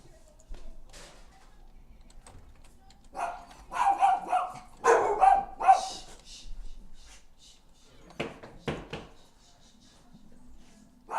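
A small dog barks in short bursts in the middle of the clip and again near the end, moderately loud against a quiet background, heard during a 7 Days to Die gaming session.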